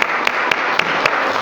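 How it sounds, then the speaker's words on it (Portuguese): Brief rhythmic applause from a church congregation at a Father's Day service: quick evenly spaced claps ringing out over a steady background wash. "vamos saudá-los com uma forte salva de palmas"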